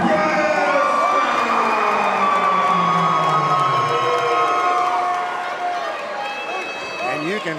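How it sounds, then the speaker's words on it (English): A crowd at a cage fighting event cheers and shouts loudly, with whoops and raised voices blending into a continuous roar that eases slightly toward the end. "you can hear the crowd here getting involved in this one"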